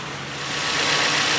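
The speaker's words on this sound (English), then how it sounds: "obviously that's because the engine is running" A car engine idles steadily, a constant rumbling hum with broadband noise that swells slightly, no voices.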